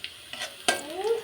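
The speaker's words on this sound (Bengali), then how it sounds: "খুব ভালোভাবে এটা আমি ভেজে নেব।" Cumin seeds frying in a pan for a Bengali taki fish and bottle gourd dish, a soft close sizzle with a brief clattering scrape of stirring partway through.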